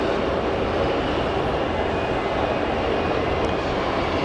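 An easyJet Airbus A319 arriving from Manchester gives a steady, broad engine roar. It holds at a fairly loud level throughout, without voices.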